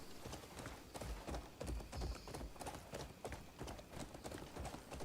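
Rapid video game horse hoofbeats clip-clop in a quick, steady rhythm, clear and fairly close, with no talking.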